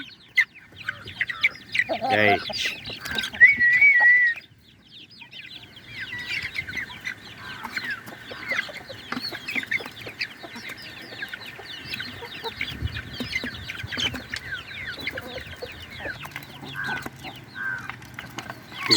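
A hen clucks while many chicks peep constantly around her, close by, with a few louder calls near the start.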